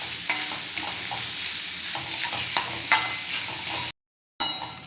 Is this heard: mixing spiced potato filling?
yes